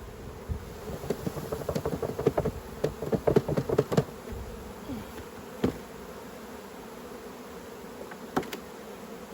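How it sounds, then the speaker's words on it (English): Honey bees buzzing as they are shaken out of a heavy, honey-filled beehive super during autumn hive work, a steady swarm drone broken by sharp knocks and thumps of the box being jarred, busiest early and then thinning. "Shake the bees out of this super."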